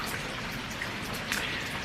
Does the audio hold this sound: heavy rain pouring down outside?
yes